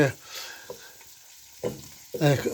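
Diced beetroot pieces sizzle and fry in melted butter in a pan, with short bursts of louder stirring and crackle between quieter stretches of steady frying.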